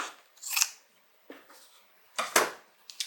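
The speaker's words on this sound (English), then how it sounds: "Any excess that you have here, which you will, I'm going to cut it off." Scissors snipping off excess fabric on a sewing project for a crossbody bag, giving three or four close, crisp cuts spaced unevenly over a few seconds.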